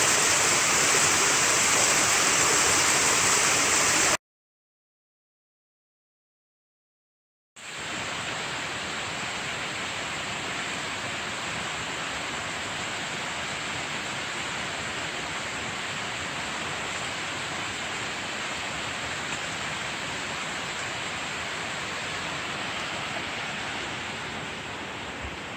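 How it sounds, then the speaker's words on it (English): A tributary waterfall of the Johns River in Pisgah National Forest, North Carolina, a constant broad roar of falling water heard steadily throughout, broken by a few seconds of total silence early on, with no voices. "That's the tributary waterfall from much further away"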